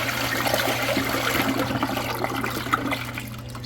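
Flush and bowl rinse of an American Standard Cadet II toilet, a steady close rush and swirl of water with a low hum underneath, tapering slightly toward the end.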